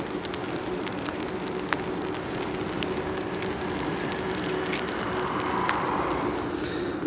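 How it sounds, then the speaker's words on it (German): Steady rain patters and hisses outdoors in the Münsterland countryside, a dense continuous wash of drops with a few sharper taps, no voices. "Es regnet jetzt doch."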